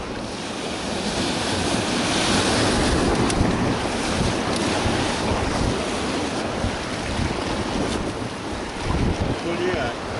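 Whitewater rapids on the Seti River in Nepal, heard from a raft: a loud, unbroken roar of rushing, churning water mixed with wind buffeting the microphone, lasting throughout.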